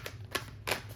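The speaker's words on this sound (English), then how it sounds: "Now we're gonna shuffle some tarot live" Tarot cards are shuffled by hand in three quick, close riffling bursts within a second, each a soft papery flutter, with no talk.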